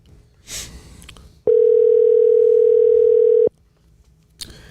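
A telephone dial tone sounds while a call is being placed from a talk show studio, one steady, loud, unwavering two-second tone between softer handling noises.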